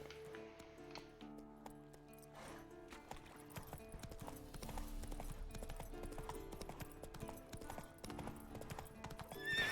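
Roach, the horse in The Witcher 3, gallops in a rapid, continuous clip-clop of hooves, beginning after a short neigh and building to a loud, steady run.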